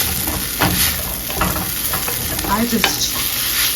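Tomatoes go into a frying pan of tofu scramble, a close steady sizzle broken by several scraping stir strokes and light clinks of the utensil.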